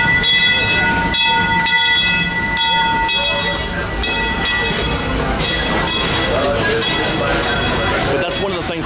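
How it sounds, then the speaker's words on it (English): A Disneyland railroad train rolls past close by, a loud, sustained rumble with rhythmic wheel clatter and ringing metallic tones, while people talk in the background. "Oh, look, a train."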